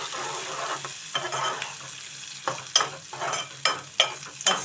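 Thinly sliced long onion and green chillies sizzle in a pan for a bitter gourd gravy curry, a steady close frying hiss broken by repeated sharp bursts of stirring.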